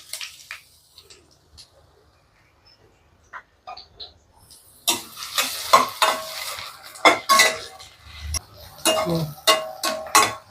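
Dried red chillies and onion hit hot oil for a chicken dish: quiet taps at first, then from midway loud sizzling with repeated stirring scrapes close by, no voices.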